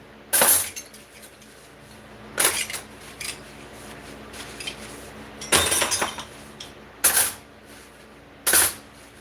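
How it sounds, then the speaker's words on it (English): Dishes being put away clink and clatter in several sharp bursts of ceramic and glass contact, spaced a second or two apart, over a quiet background. "These dishes put away, man."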